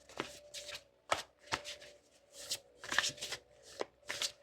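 Tarot cards being shuffled in repeated short riffles and taps, close up and fairly quiet, with a faint steady hum underneath.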